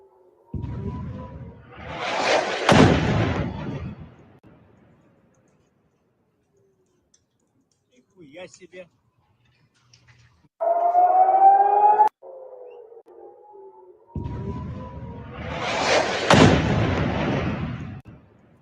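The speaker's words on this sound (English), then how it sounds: "So this was the missile that landed in Asqalan" Missile strike landing in Asqalan amid warning sirens: two loud, broad blasts of rumbling roar open and close the stretch, with a quieter gap between and a short steady wailing siren tone in the middle.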